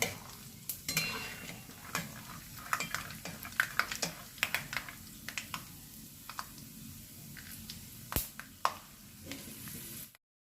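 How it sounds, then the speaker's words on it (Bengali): Nuts frying in hot oil in a pan, with a soft steady sizzle under a run of sharp utensil clicks and scrapes from stirring. "দেখতে পাচ্ছ তেলটা গরম হয়ে গেছে, আর আমি এর মধ্যে কতগুলো বাদাম দিয়ে দিলাম"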